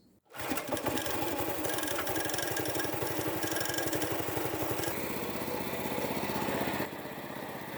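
A dirt bike chain-driven by a Honda GX200 engine runs on a test ride around a yard, a loud close rapid putter of a small single-cylinder engine at steady fixed throttle, easing slightly near the end.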